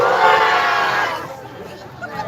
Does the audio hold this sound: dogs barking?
no